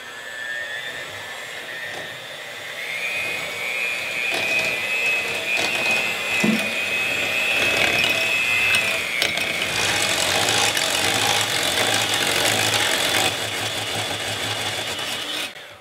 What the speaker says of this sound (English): and then with an electric mixer, mix.